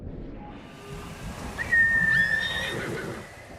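A horse in the video game Ghost of Tsushima gives a single high, wavering whinny over a soft outdoor ambience, fairly close and clear with no talk.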